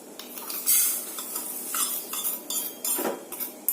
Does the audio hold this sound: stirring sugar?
yes